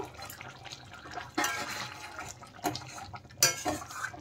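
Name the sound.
lifting the lid off a cooking pot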